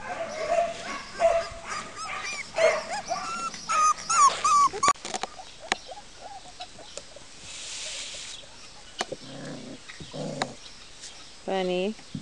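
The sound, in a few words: puppies whimpering and yipping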